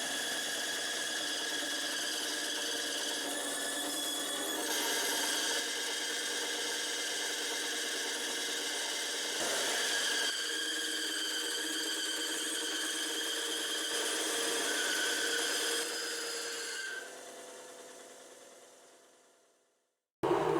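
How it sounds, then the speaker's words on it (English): An old spokeshave shaves a wooden electric guitar neck, giving a steady, close, bright rasping squeal with short pauses between strokes that fades out near the end. "I'm going to try using a spoke shave today, but this is a very old spoke shave I got"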